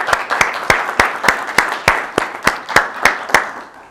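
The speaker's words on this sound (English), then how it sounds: "Let's give him a round of applause" Audience applause at a lecture: sharp, evenly spaced claps at a steady rhythm of about three per second, loud and close, sounding like only a few people clapping rather than a full crowd.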